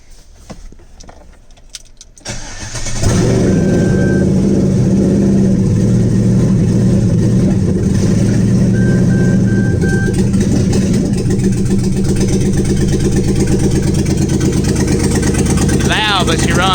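A Chevrolet Colorado with a swapped 5.3 LS V8 cranks and fires, then settles into a loud, rough, steady idle close by, with keys jangling at the start.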